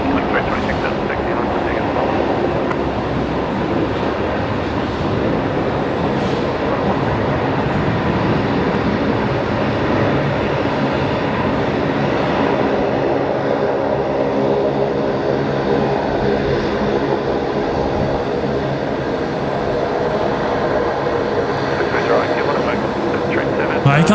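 A Link Airways aircraft arrives at Brisbane Airport at night with a loud continuous engine roar close by that holds steady throughout, while voices talk over it.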